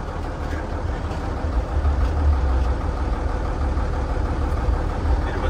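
A truck engine idles with a deep, steady rumble at a truck event in Brazil, loud and near, running continuously with no break.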